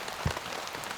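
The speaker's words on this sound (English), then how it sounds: "The rain is coming down." Rain falls steadily on a tent during mountain camping, a soft diffuse patter that stays even throughout, with one brief low thump early on.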